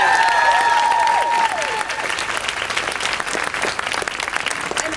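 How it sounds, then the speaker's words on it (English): Applause from a crowd at a Planned Parenthood rally, a dense, loud burst of clapping that continues steadily throughout, with some voices and cheers mixed in near the start. "can we give her another round of applause"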